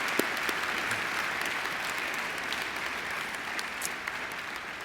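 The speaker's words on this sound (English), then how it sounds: "I think Angela deserves another great round of applause." Sustained applause from a large audience filling a university graduation ceremony hall, steady and even throughout with no voices over it.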